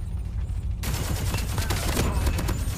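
Dense bursts of automatic gunfire in the mobile shooter Call of Duty Mobile, starting abruptly after a brief quiet lead-in and rattling on continuously, loud and close.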